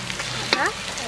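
Ginger garlic paste hits sautéed onions in a hot pan for village-style mutton curry, giving a close, steady sizzle with a brief wet spatter in the middle.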